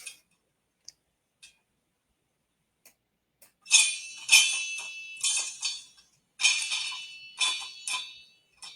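Popcorn popping in a pot on a stove: a few scattered single pops at first, then clusters of bright, crackly bursts in quick succession, close and fairly loud, with no talking.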